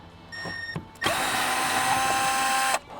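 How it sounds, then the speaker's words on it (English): A Torx T30 screw is backed out of a BMW engine cover, with a couple of light clicks, then a steady, fairly loud mechanical whir lasting nearly two seconds that stops abruptly. "it will reveal a Torx T30. Let's remove that, turn it counterclockwise."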